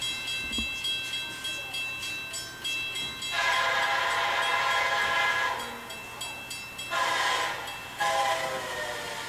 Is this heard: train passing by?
yes